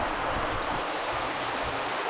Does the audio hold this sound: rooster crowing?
no